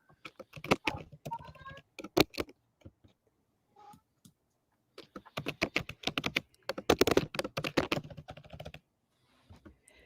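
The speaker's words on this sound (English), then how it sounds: "I hear typing." Bursts of close, quick clicking keystrokes on a computer keyboard, pausing briefly between runs, with faint voices now and then.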